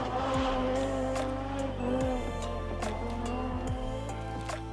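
Audi Quattro Group B rally car with a turbocharged five-cylinder engine, revving hard with rising and falling engine notes and sharp gear changes; a loud, close, rasping run of acceleration with no talking.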